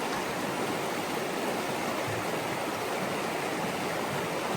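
River water rushes through Patuna Chasm in a dense, steady broadband roar, close and continuous with no pauses or voices.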